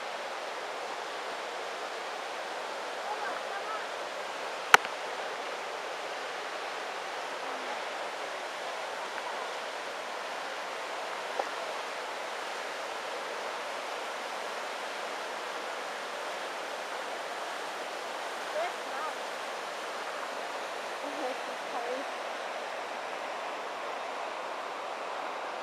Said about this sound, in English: Huge big waterfalls, Bindaree Falls.